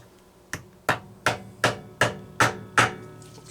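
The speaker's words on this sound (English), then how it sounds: "we're going to hammer that end cap back in" Someone hammers an end cap back into a Homelite XL chainsaw with seven sharp, evenly spaced blows, each landing close and loud.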